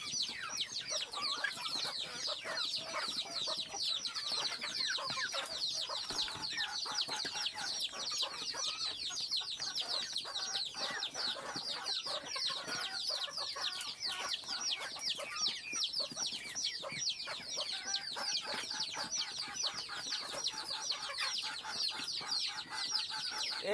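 Free-range domestic chickens cluck continuously and busily close by while being fed a corn-meal mash mixed with water. The flock's chatter is dense and unbroken, with no talking over it.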